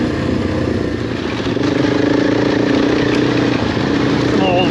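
A KTM 790 or Husqvarna 501 adventure motorcycle runs on a desert backcountry ride in Arizona, its engine a loud, steady close drone with wind rush and a slight rise in pitch, under a brief spoken voice.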